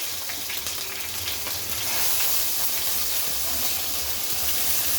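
Curry leaf sprigs frying in hot oil for a Telugu-style fish curry (chepala pulusu), giving a steady, dense sizzle and hiss that swells slightly midway and continues close and unbroken.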